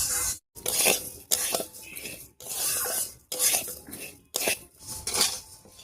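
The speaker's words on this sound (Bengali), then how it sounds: "আর চালটা ভাজছি, খুব সুন্দর গন্ধ বেরোচ্ছে।" Gobindobhog rice fried in ghee is stirred in a pan, with repeated scraping, rattling strokes of the spoon against the metal in uneven bursts separated by brief pauses, close and fairly loud.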